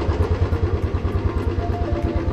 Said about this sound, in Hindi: चार बाइकें हैं, चार का ड्रैग होगा